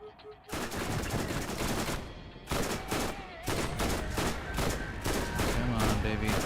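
Bursts of enemy gunfire in Borderlands, loud rapid volleys with brief gaps between them, alone without talk.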